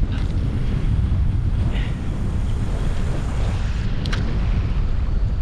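Strong wind at the sea during a fishing session, a steady loud roar buffeting the microphone for the whole stretch with broadband rushing and low rumble, no speech.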